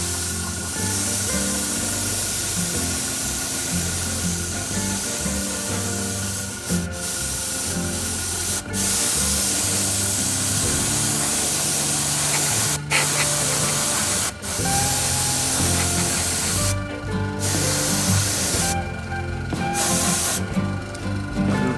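Steady, loud airbrush hiss as primer is sprayed at mostly air and little paint onto a tabletop miniature, running almost continuously with a few brief cutoffs between passes.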